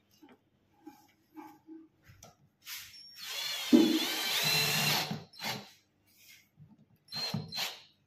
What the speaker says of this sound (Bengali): আমরা প্রথমে 1/8 এর বিট দিয়ে আমরা হোল করে নেব